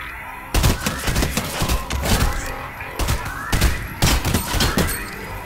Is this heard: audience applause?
no